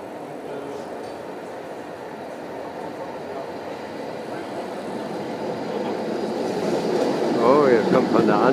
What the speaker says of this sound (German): Jetzt kommt eine. Auch wieder eine etwas ältere Bahn.